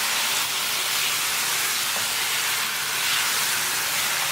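Beef with Indian masala sizzles in a pot over a high gas flame, a loud, steady, broad hiss that continues without a break.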